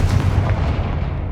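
A Confringo blasting curse in the video game Hogwarts Legacy lands as a deep, booming blast with a rumbling, artillery-like low end that rolls and fades over a second or so.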